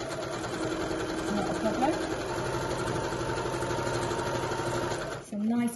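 A sewing machine stitches a 1 cm seam on a beginner's pack-away shopping bag, running in a steady, loud mechanical whir for about five seconds before stopping, with a brief spoken remark near the end.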